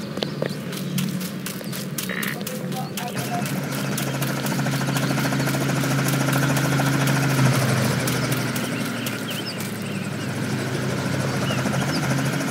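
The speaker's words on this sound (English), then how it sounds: "But where did that helicopter come from?" Continuous rotor thump and engine drone of a helicopter in a video game, loud and steady throughout, with faint rustling underneath.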